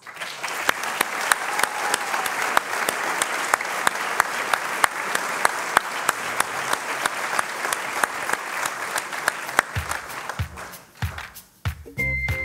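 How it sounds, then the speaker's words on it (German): A crowd applauds the rollout of the JR22 student race car, dense sustained clapping with a few whistles and cheers, loud and continuous, thinning out toward the end. "Meine Damen und Herren, einen großen Applaus für unseren JR22"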